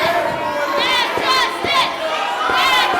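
Pro wrestling crowd at a televised event cheering and shouting in a steady, loud roar, with rising yells and whoops throughout and a commentator talking over it.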